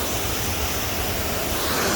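A raging waterfall roars steadily and loudly at close range, a dense, unbroken rush of falling water filling the whole clip with constant broadband noise and a heavy low rumble.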